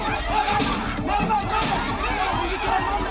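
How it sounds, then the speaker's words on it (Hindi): An angry crowd carrying sticks advances on a police post, a dense restless babble of many shouting voices, steady and moderately loud, with scattered knocks and a reporter speaking over it. "गुस्साई भीड़ हाथों में लाठी डंडे लेकर पुलिस चौकी की तरफ बढ़ रही है।"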